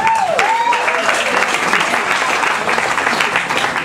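At a 90th birthday party, a crowd gives a sustained round of applause with steady clapping, while voices carry on over it.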